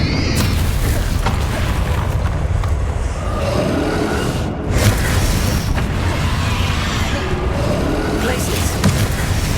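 Confringo explosive spells blasting in the Hogwarts Legacy video game: a continuous barrage of heavy, rumbling booms and bursts, loud and near, with voices layered underneath.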